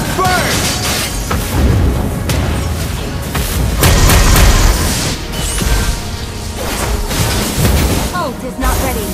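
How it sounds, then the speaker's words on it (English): Valir's Lava Burst fire skill going off in a hero battle game, booming explosive bursts layered over dense game music and effects, loud and continuous throughout. "Lava burst!"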